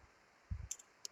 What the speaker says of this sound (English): then you have to just click enter